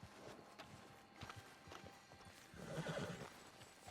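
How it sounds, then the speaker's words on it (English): Horse hooves clip-clop at a steady pace while the horse whinnies loudly, with game sounds in the background, in Red Dead Redemption 2. "This horse trying to shake the sillies out."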